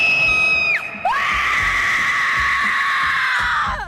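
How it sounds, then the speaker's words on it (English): A person screams at a high school football game with the Shades Valley Band, a sustained shrill cry that breaks off and then resumes loud and long, close and alone over faint crowd background. "your Sideline Scream of the Week"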